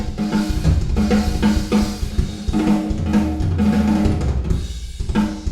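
A busy drum pattern rings with a bright, splashy reverb like a tiled room, snare hits and cymbals smeared into a dense, reflective wash.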